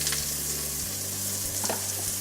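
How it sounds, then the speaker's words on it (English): Mushrooms brown in an oiled pan, giving a soft, continuous sizzle and crackle with faint low hum underneath and no talking. "Let it sizzle."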